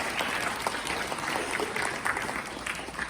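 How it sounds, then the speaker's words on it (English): An audience at the Dream Builders 2025 program event claps in a sustained, moderately distant round of applause for the sponsors, with individual claps flickering through the crowd noise. "Let's give them all a round of applause"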